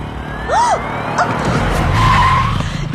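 A vehicle braking suddenly at a speed breaker gives a loud, close tyre skid, a sharp rising and falling squeal over a rumbling engine that lasts about three seconds.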